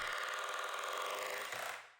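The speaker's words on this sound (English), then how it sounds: "Then using your drill, begin drilling slowly into the wall." A loud, steady mechanical whir of a hammer drill boring into a plasterboard wall, grinding continuously for about two seconds before trailing off.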